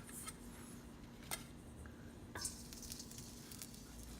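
Shrimp frying in a pan for seafood kare-kare, a soft, steady sizzle with faint crackles and a couple of small clinks, quiet and continuous.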